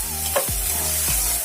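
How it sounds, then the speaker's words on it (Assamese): Cumin and pepper powder with a pinch of five-spice being stirred in a hot pan, a loud, close sizzle with a low steady hum and a few brief scraping strokes. "মই জিৰা জালুকৰ গুড়া ভালদৰে লৰাই আছোঁ"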